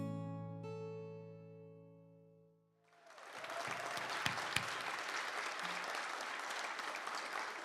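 Applause breaks out at a college career makeover winners announcement, a dense sustained clapping from an audience that follows a held musical tone and carries on loudly to the end.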